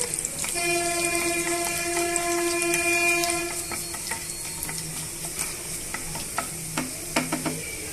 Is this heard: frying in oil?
yes